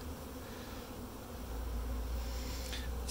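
Honeybees buzz steadily in an opened beehive during a spring inspection, a dense insect hum that swells louder midway, with no talking.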